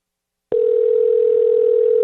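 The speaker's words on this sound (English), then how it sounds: "Aha, it's ringing." A telephone call tone comes on abruptly and holds as a steady, loud single pitch, close and alone with no voices.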